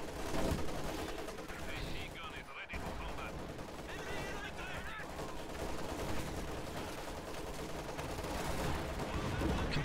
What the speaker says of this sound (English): All three howitzers are firing.